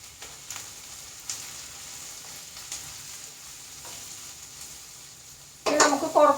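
Onion and ginger go into a hot pan after a few quiet clinks. A loud burst of frying sizzle then rises near the end as the mix is stirred.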